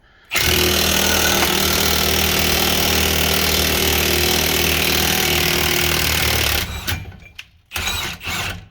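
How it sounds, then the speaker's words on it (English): A loud power tool rattles and roars continuously for about six seconds while pressing out an upper ball joint on a Ford Super Duty, then stops and gives two short bursts. "Now the upper, we're using the ball joint press on."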